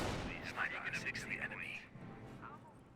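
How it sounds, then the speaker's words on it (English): Artillery barrage in the World War II strategy game Company of Heroes, with repeated booming impacts and bursts over about three seconds under continuous commentary. "got a barrage raining in over here"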